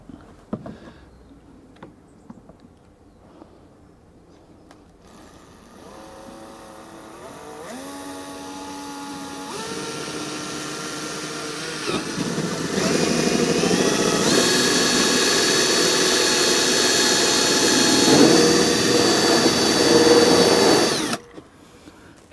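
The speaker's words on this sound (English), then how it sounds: "now let's crack on and drill the hole" A power drill winds up and whines steadily, its pitch climbing in steps as it bores a hole through a campervan bumper for a reversing sensor, growing louder before stopping abruptly.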